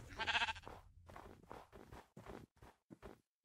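A Minecraft sheep gives one loud, short bleat, followed by a string of softer clipped game sounds and steps in an uneven rhythm.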